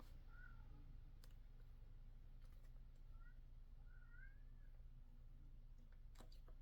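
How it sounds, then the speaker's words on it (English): A small cat meows outdoors in a few faint, short, rising calls spread over several seconds, set against a steady low background hum. "You can hear like a little cat outside talking."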